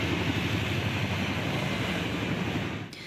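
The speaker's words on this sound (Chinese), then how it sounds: "挂大型国旗的次努克运输直升机，早起搁再飞过总统府" A Chinook transport helicopter carrying a large national flag flies over the presidential office during a National Day air rehearsal, producing a steady, distant, broad rumble that drops off abruptly near the end.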